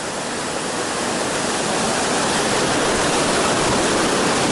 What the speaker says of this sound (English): through the forest over here is a massive waterfall